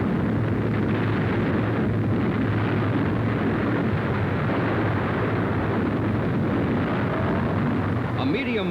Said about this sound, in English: Planes of the American Army Air Force demonstrate the terrific destructive power of their latest bombs. 100-pounders in a concentrated salvo.